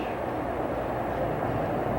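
A steady train sound effect played on a livestream for a tip train, a continuous, loud rumble of rolling rail cars with no talking.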